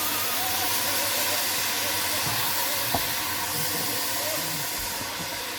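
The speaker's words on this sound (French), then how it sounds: "vous rajoutez le vin blanc" White wine poured into a hot risotto pan, cooked alongside pike-perch, gives a loud, steady sizzling hiss that fills the whole stretch with only slight dips in intensity.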